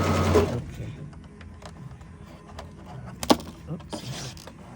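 Sewing machine stitching an invisible zipper using a regular zipper foot, a short mechanical whir at the start followed by quieter clicks and handling noises, with a person speaking over parts of it.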